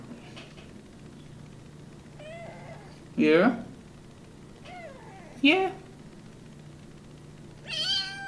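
A house cat meows several times between a person's soft spoken remarks, with short loud calls rising and falling in pitch, close by in a quiet room.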